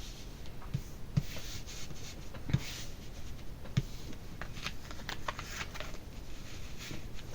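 Tarot cards are handled, shuffled and laid out on a surface, giving soft papery rustling and a few sharp taps as cards land, close up with no talk.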